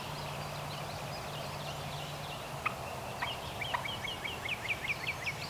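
A wild turkey in an open field gives a run of quick, rhythmic gobbling or yelping calls. The calls are faint and distant over a steady low hum, and they grow busier in the second half.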